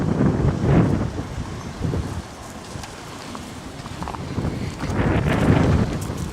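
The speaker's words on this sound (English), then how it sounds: "A little windy, huh?" Strong wind blows in gusts, buffeting the microphone with a rough rumble that swells, eases and swells again. The wind follows a powerline pole breaking off at its base in high wind.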